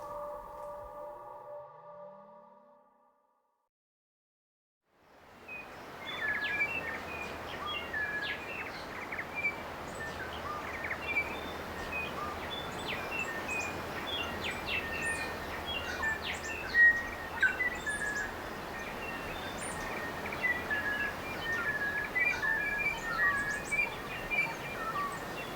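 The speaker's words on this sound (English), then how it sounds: "How spectacular to have the dawn chorus back," Dawn chorus of many wild birds on a wild stretch of coast, a dense layer of overlapping chirps, trills and whistles rising after a few seconds of silence and carrying on steadily, with no voices.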